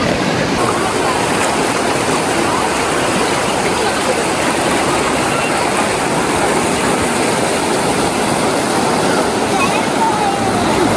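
Loud, steady rush of a fast-flowing, cold river in Kota Belud, Sabah, a continuous broadband roar filling the whole clip with no pauses.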